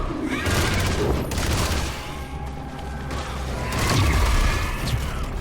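Dense game combat in Armatus with heavy explosive blasts and rapid gunfire from a grenade launcher, loud and continuous, with booming bursts swelling near the end.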